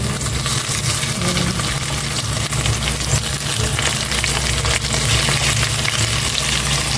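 Fish, a halved yellowfin tuna including the split head, sizzles loudly and steadily as it fries in a hot pan, a dense continuous crackle with no talking.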